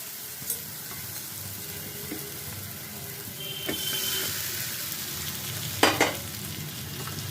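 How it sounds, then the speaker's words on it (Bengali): Fried pumpkin pieces go into sizzling masala in a pan and get stirred: a low, steady sizzle with scattered scraping, and a couple of louder clanks and a brief clatter partway through. "এবার আমি ভেজে রাখা কুমড়োগুলোকে এর মধ্যে দিয়ে দেবো"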